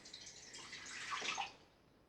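Water dribbles from a tap onto a Scottish Heather shaving soap puck, a light splashing trickle that swells briefly toward the middle and then fades, with no talking.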